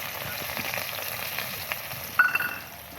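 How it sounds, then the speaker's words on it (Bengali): Chopped onion sizzles steadily in hot oil with cumin seeds in a pan, a dense continuous frying hiss with a few louder crackles and pops near the end. "পেঁয়াজ দিয়ে দিলাম। পেঁয়াজটা বাদামি হলে"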